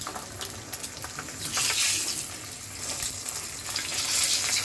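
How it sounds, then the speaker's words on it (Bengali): Eggs fry lightly in a pan, giving a soft, steady sizzle and crackle that swells midway and stays fairly quiet throughout, with no talking. "হালকা করে ফ্রাই করবো।"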